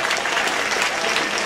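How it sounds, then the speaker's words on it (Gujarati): An audience at a Devda family community gathering in Mumbai claps loudly and steadily in dense, continuous applause, close and filling the room, with no clear talk over it. "ડબલ તાળી પાડો"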